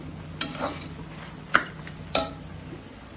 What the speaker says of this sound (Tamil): உப்பு போட்டு நல்லா வதக்கிடணும்.